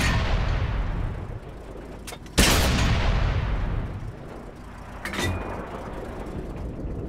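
Artillery fire in the tank combat game World of Tanks, a heavy booming blast over a dense rumbling battlefield roar, with a second sharper impact a few seconds later.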